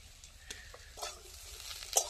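Spices being stir-fried with aubergine and spinach in a pan, giving a quiet, steady sizzle broken by a few soft scraping stirs and clinks of the spatula, with no voices.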